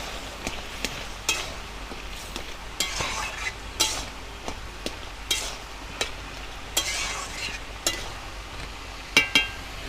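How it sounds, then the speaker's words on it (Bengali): Pointed gourd and prawn curry with ground garam masala is stirred in a pan, a spatula scraping in repeated strokes over a steady low sizzle, close and alone without talk. "নেড়ে চেড়ে দেবো"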